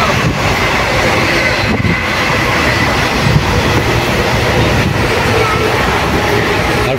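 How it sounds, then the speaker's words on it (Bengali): The Kumbha Express runs on the rails from Howrah toward Haridwar, with a loud, continuous rumble and steady clatter of wheels heard from inside the moving carriage, constant throughout with no clear talking. "আমাদের বর্ধমান থেকে আবার ট্রেন চালু হয়ে গেল।"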